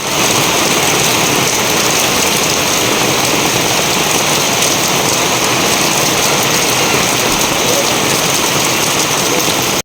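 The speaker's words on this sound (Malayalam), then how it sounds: "ഇത് പെരും മഴ" Heavy rain pours down in a dense, loud, unbroken hiss of drops striking surfaces, steady for the whole stretch with no voices.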